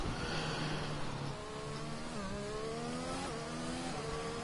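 An Aston F1 1996 race car engine in a racing video game screams at high revs, its pitch climbing through gear changes with steady, loud harmonic whine throughout, no voices.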